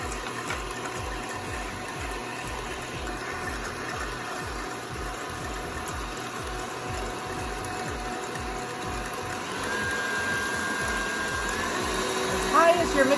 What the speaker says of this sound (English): As high as your mix master can go.